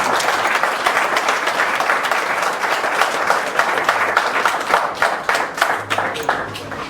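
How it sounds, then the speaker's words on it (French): Warm applause from the audience at an awards evening for top medical engineering students, sustained dense clapping that grows more distinct toward the end. "j'aimerais avec vous qu'on puisse les applaudir très chaleureusement"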